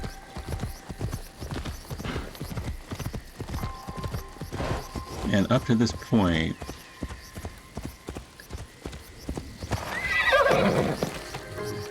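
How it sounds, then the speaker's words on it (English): A horse in the video game Assassin's Creed Shadows trots with close clip-clopping hooves and gives two loud, drawn-out neighs, one midway and one near the end. Someone talks over the hoofbeats throughout. "let me get off the horse"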